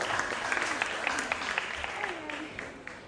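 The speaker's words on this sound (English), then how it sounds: "Round of applause to the contestants." Audience applause for student contestants at a school quiz competition. A continuous patter of many hands clapping, moderately loud, sits over a hall's background murmur and fades gradually.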